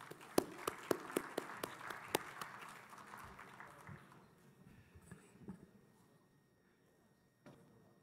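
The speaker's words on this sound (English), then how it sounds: "Let's give Marion another round of applause for an interesting talk." Short applause from a conference audience after a talk at a water conference: a few sharp, distinct claps up front over a softer crowd patter that fades out within about four seconds, followed by quiet room noise and a stray knock.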